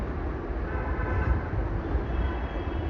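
The Indian Railways Amrapali Express, bound for Katihar and Amritsar, runs past as a steady, dense low rumble of rolling wagons, loud and continuous throughout with no speech.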